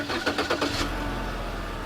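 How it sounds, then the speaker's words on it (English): A 2015 Chevy Sonic engine starts by remote start, a short cranking burst that settles quickly into a steady low idle, heard close and alone. "Let's try that remote start one more time."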